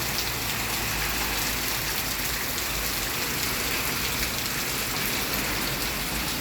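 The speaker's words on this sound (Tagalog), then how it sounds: "Ang ganda, lakas ang ulan." Heavy rain pours steadily on outdoor surfaces, a dense, even hiss of drops close by that never lets up, with no voices over it.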